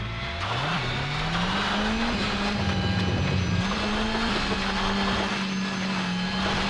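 A rally car engine from the PS2 World Rally Championship game drones steadily during a Safari Rally shakedown stage. The pitch climbs and shifts between gears, with tire and gravel noise beneath.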